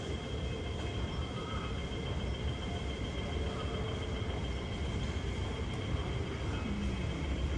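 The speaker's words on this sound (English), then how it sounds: "The train to Tin Mun is arriving." A steady, continuous rumble of a Hong Kong MTR train pulling into a station, with a faint metallic hiss above, constant in level throughout.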